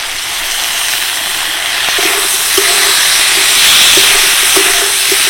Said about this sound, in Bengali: ডাল দিয়েও একটু নেড়ে চেড়ে নিচ্ছি।